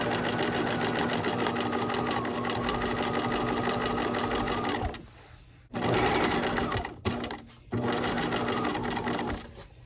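A sewing machine stitches a quilt made from dryer sheets, running loud and steady close by, then pausing briefly twice before starting up again.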